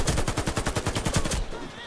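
Rapid automatic gunfire from an AK-103 in the video game Warface, a fast, even burst of about a dozen shots, loud and close, cutting off abruptly near the end.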